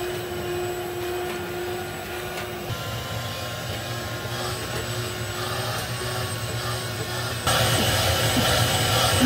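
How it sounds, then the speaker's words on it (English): A shop vacuum runs steadily and fairly loud throughout while powering a DIY horizontal drilling rig, a continuous motor whine and rushing drone that swells slightly louder near the end. "Fire up the shop vacuum and let's get drilling."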